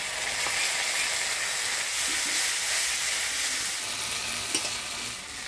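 Crushed garlic, tomato and ground paste of coriander, cumin, ginger and dried red chilli frying in a pan, a steady close hiss of sizzling oil with faint stirring clicks, no voices.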